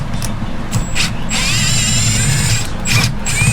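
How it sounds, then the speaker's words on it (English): A power drill whines loudly and close at varying speeds while backing screws out of the frame of an RV motorhome being rebuilt, the pitch rising and falling with short pauses and no talking. "So take out some more of these screws."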